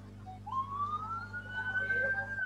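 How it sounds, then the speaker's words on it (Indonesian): An emergency siren passes in traffic, its rising wail climbing steadily over a low engine hum from nearby vehicles, moderately distant and fairly faint. "Oh, ambulan ya?"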